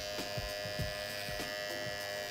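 An electric hair clipper buzzes steadily and close while its edge cuts a fade in a barbershop, with a faint rhythmic pulsing as it is worked through the hair.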